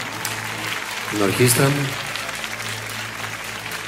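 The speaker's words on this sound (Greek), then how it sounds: "Ένα χειροκρότημα στο μαέστρο μου, παρακαλώ." Concert crowd at a live Greek music show applauding the conductor and orchestra: a continuous wash of clapping underneath, while someone speaks over it through a microphone.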